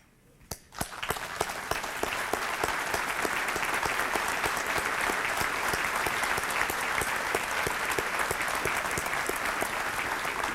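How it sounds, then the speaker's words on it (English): At the 2012 Chattahoochee Valley Sports Hall of Fame ceremony, the standing crowd gives a final round of applause for the inductee class. The clapping swells in after a second and stays loud, dense and steady to the end. "we please stand and give one final round of applause to the class of 2012"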